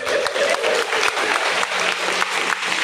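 Church congregation applauding during a sermon, a steady dense wash of clapping hands that fills the room evenly from start to finish with no voice over it.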